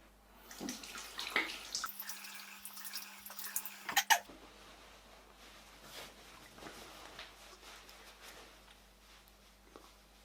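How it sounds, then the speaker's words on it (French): Water splashing at a bathroom sink as a face is rinsed, with close, irregular splashes and trickling for several seconds, then a softer, fainter dripping and sloshing afterward. "donc là maintenant je me rince"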